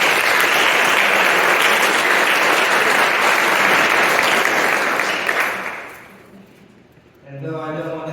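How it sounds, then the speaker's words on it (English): A live audience at a poetry festival panel applauds loudly and steadily, the clapping fading out toward the end before a voice starts talking over the room. "Round of applause, everyone, please."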